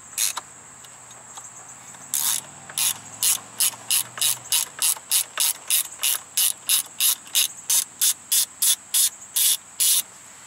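A ratchet wrench loosens the steering wheel nut on a Ford Crown Victoria, clicking in a long series of about twenty evenly spaced, sharp metallic bursts, close and loud with no talk.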